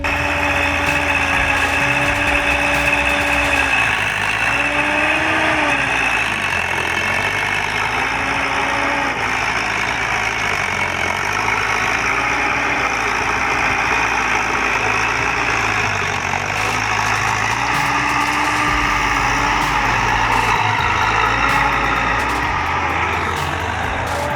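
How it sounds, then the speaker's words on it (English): A Bell loader's engine runs steadily while it works in a sugarcane field on a slope, a loud continuous diesel drone with rising and falling revs and no voices throughout. "we see a bell loader operating in a sugarcane field on a slope"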